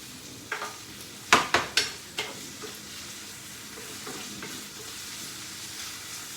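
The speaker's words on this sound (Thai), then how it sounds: "ใส่เบคอนไปด้วยนะคะ ใส่เบคอน เป็นแผ่นๆ" Strips of bacon frying in a pan: a soft, steady sizzle runs throughout, with a quick burst of sharp utensil scrapes and clatters near the start.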